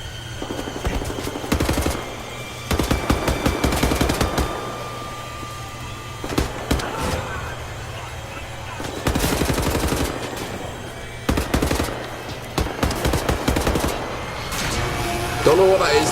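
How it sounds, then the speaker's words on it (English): Machine gun fire aimed at a tank in the first-person shooter The New Order, loud sustained bursts repeating several times over a low engine-like hum, with gaps of quieter rumble between volleys. "I'm definitely shooting the hell out of it."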